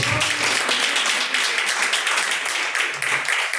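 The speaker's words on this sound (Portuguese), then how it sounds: "Palmas para o nosso Deus" Congregation clapping during a lively church service, a continuous wash of many hands applauding together at moderate loudness, with faint voices mixed in.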